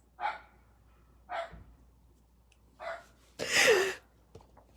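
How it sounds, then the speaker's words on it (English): A dog barks in the background, four separate barks spaced about a second apart with the last one louder and longer, and no talking over them. "The dog in the background, right?"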